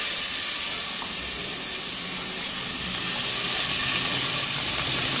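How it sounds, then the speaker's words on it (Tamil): Chopped onions frying in a pan for mutton keema curry, a steady, bright sizzle and hiss close by with faint stirring, no voices. "வெங்காயம் நல்லா வதங்கணும்."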